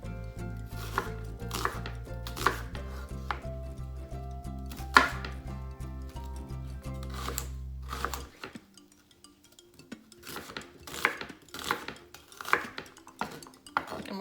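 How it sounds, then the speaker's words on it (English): Knife rough-chopping a whole onion on a board for a Southern pot roast: a steady series of sharp, close taps, brisk and uneven, with faint dish clinks and a background hum that drops out partway through. "just gonna do a rough chop"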